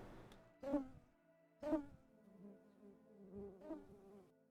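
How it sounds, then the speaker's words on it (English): Bees in the Minecraft video game buzz in two sharp, loud bursts early on, then a softer wavering drone continues, with no talk over it. "Oh, I just heard bees."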